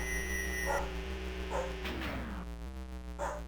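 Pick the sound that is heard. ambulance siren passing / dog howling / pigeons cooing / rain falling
dog howling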